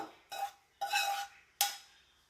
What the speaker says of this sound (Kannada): ಈಗ ಕೊನೆಯಲ್ಲಿ ಆಗಲೇ ಮಾಡಿಟ್ಕೊಂಡ್ವಲ್ಲ ಈರುಳ್ಳಿ, ಸಾಸಿವೆ ಒಗ್ಗರಣೆನ ಅದನ್ನು ಹಾಕಬೇಕು